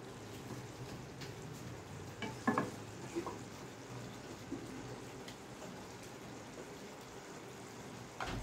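Kechki fish with cumin and coriander powder is stirred in a pan, a soft sizzle running underneath with a few clinks and scrapes of the spoon, fairly quiet and close.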